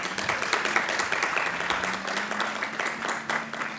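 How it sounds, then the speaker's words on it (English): A commencement audience at Stockton University claps for a guest's mother, a sustained, dense round of applause from a crowd at moderate distance, with faint voices underneath. "Give her mom a round of applause."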